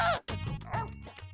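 A man imitates a dog with his voice, giving a short series of close, yappy barks and whimpering yips during a comedy show.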